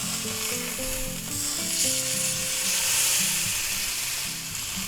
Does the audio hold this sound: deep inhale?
no